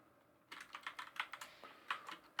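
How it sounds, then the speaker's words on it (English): Fingers type on a computer keyboard, a quick uneven run of soft key clicks that starts after a half-second pause, close and moderately quiet with no talk. "Can I talk and type at the same time?"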